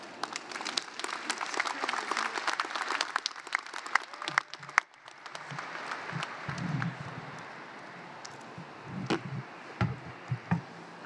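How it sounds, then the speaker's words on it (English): A crowd at a John Jay College commencement ceremony applauds with dense, sustained clapping that fades out partway through. A few scattered claps and thumps follow. "let's give him another round of applause"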